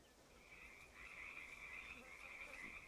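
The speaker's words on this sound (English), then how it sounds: "you can hear the frogs and all that stuff" Frogs croak softly and steadily in a fishing-game environment on Linux, forming a faint, continuous chorus throughout.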